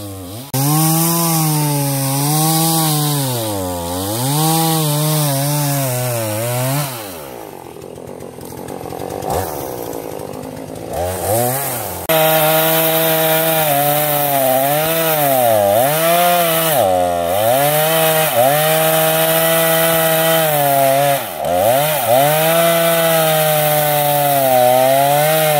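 A chainsaw cuts through a tree in a rural Vietnamese countryside setting, its loud engine revving and bogging in repeated cycles, with a brief quieter pause midway before the saw roars back at full strength.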